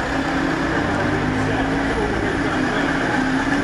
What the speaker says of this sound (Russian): Автобусов море и очень шумно.